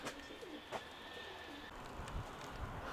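Soft pigeon cooing in low, rolling phrases, fairly faint against a steady background with a few higher bird chirps.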